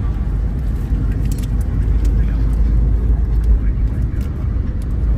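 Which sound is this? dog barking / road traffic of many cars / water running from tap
road traffic of many cars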